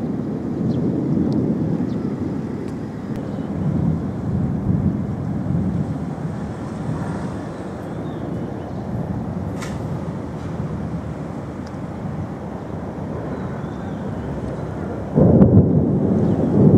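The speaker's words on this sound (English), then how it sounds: "definitely the storm is directly over there." Thunder from a storm during the rainy season in Thailand or Laos rumbles low and distant over a long stretch, with wind buffeting the microphone and a louder swell near the end.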